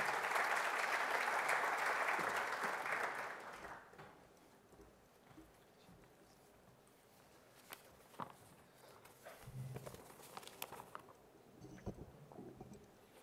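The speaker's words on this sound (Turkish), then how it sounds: "alkışlarınızla kürsüye davet etmek istiyorum" Audience at a corporate governance summit conference applauds as a speaker is invited to the podium; the clapping is loud for about four seconds, then fades into quiet room noise with scattered footsteps and small knocks.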